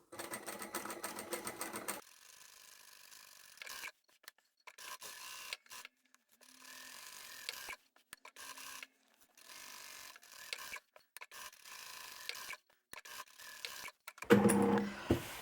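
A sewing machine quilts diagonal lines across a picnic placemat, stitching in fast bursts broken by short pauses as the fabric is repositioned, with a louder rustle near the end.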